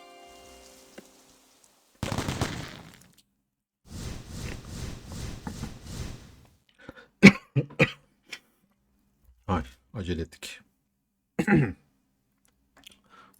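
A person coughs repeatedly in short clustered fits after water went up the nose, close and fairly loud, with quiet gaps between bursts.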